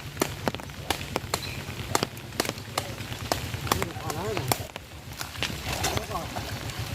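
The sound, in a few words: jute fibres being beaten and washed in pond water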